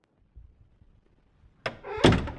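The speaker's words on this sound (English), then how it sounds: "So we close the door, we don't have to do anything else." A door swings shut with a close, solid thud followed by a brief rattling settle, loud and near, after a quiet stretch with faint handling noises.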